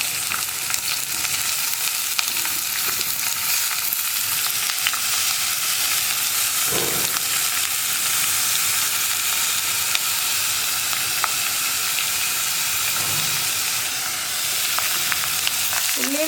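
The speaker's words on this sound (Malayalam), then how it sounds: "ഉള്ളിയും വേപ്പിലയും ചേർത്ത് ഒന്നുകൂടി ഒന്ന് വഴറ്റിയെടുക്കുക." Crushed onion and curry leaves sauté in a pan for kadala mezhukkupuratti, a steady broadband sizzle with occasional scrapes of stirring, close and continuous with no voices.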